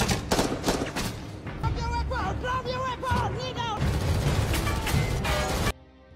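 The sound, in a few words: gunfire in film shootout with Somali pirates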